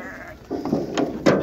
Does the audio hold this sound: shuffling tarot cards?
no